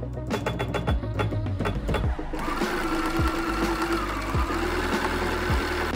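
A domestic sewing machine does free motion stitching on a quilt with a fast, steady mechanical whir and rhythmic needle thumps, close and alone.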